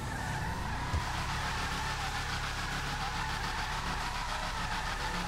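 A 1970 Camaro Z28, the Nightshade in GTA Online on PC, struggles to pull away uphill with a steady engine roar and continuous tire skidding and squeal, heard alone without talk.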